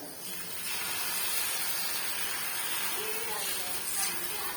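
Dosa batter hits a hot iron pan and sizzles in a soft, steady hiss that rises quickly and holds, fairly faint and close.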